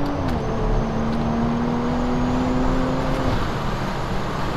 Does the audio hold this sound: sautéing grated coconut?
no